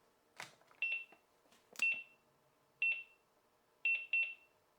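Tiger 911 autodialer beeping during its power-on self-test, a series of short, clear electronic beeps in irregular groups, one then another, then a quick double, heard close with clicks between and a quiet background.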